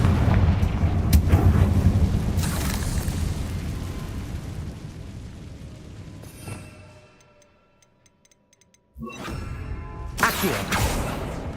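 A Confringo spell explodes in Hogwarts Legacy with a loud, rumbling blast that fades over several seconds into near silence, then a second sharp burst erupts and rolls on.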